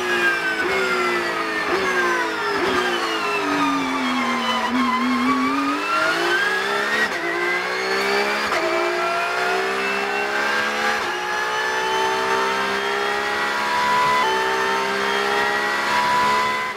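Porsche Cup race car engine on a warm-up lap at Red Bull Ring, heard onboard as a loud continuous drone that dips in pitch through a slower section then climbs steadily as it accelerates.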